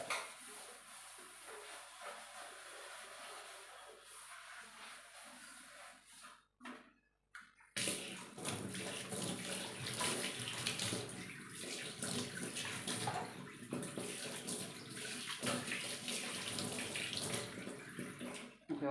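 Tap water running at a kitchen sink while dishes are washed, a steady moderate flow that briefly stops, then resumes louder and continuous.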